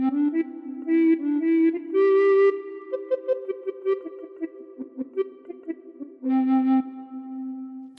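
A recorder plays the melody of Row Row Row Your Boat alone, with clear breathy notes running through the complete tune at a steady beginner's pace, some tones held long and others tongued in quick succession.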